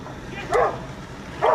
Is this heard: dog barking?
yes